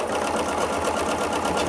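A sewing machine stitches backwards in a continuous, even mechanical whir, loud and close with no pauses.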